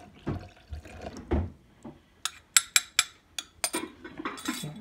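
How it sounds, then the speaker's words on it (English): Yeast is stirred into a bread pan holding honey, with a spoon clinking sharply against the pan in a quick run of bright taps after some softer handling noises. "I'm going to stir it up, give it a good stir."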